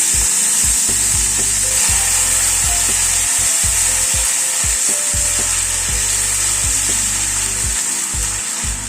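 Onion paste and spices fry on a low-to-medium gas flame with a loud, close, steady hiss. A rhythmic low scraping of the spatula pulses through it repeatedly, and nobody speaks.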